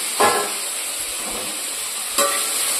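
Potatoes fry in a wok with nigella seeds and green chillies, giving a steady close sizzle, and two brief bursts of scraping are heard as they are stirred. No one speaks.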